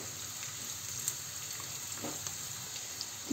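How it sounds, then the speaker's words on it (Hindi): Onions frying in a pan for an egg and potato bhujia, a soft continuous sizzle with faint crackles, fairly quiet and steady with no talking. "अब हम इसको प्याज को खूब अच्छे से फ्राई कर लेंगे।"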